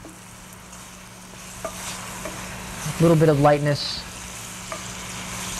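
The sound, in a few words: pear pieces bubbling in a pan with butter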